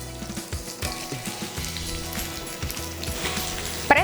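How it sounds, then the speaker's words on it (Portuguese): Onion sizzling and frying in melted butter in a pan for a risotto with caramelized onion, a steady close crackling hiss with a few soft stirring clicks, no voices. "Derrete a manteiga e já pode entrar com a cebola."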